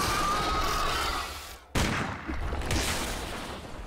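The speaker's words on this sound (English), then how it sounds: "Alright, pistol time." A pistol in Legend of Grimrock 2 fires a single loud, abrupt crack amid busy in-game noise, followed by a few softer thuds and rumbling ambience, with no talk.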